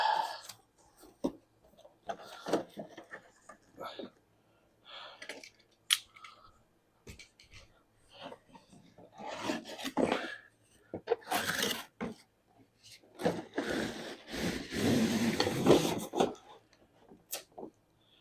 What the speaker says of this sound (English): Cutting the tape.